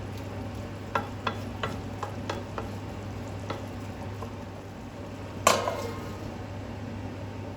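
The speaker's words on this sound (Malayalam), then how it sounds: "ഇതെല്ലാം കൂടെ ഒന്ന് ഇടക്ക് യോജിപ്പിച്ചിട്ട് വീണ്ടും മൂടി വെക്കുക" Chicken peralan with onion being stirred in a hot pan: a steady soft sizzle under a run of light spoon scrapes and taps, then one sharper clatter near the end.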